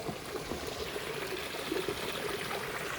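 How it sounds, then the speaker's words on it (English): A creek's waterfall spilling over a pond dam, a steady broadband rush of flowing water heard from close by, continuous and fairly loud without voices. "Here, we'll get a view of the waterfall from the pond dam."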